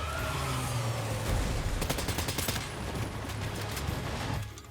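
Machine gun fire in the video game Death Stranding 2 rattles in rapid bursts at a moderate distance over a low engine-like rumble, the shots clustering in the middle before tapering off.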